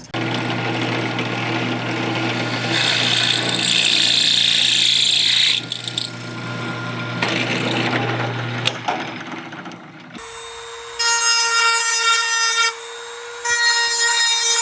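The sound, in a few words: drill bit drilling a hole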